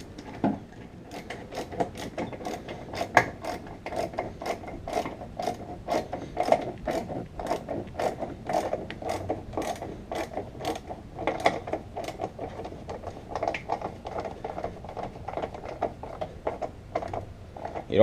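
Repeated rapid clicking of a ratchet tightening a bolt on a Mustang's Airaid cold air intake, a close series of sharp mechanical ticks in bursts with short pauses.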